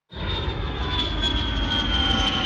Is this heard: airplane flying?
yes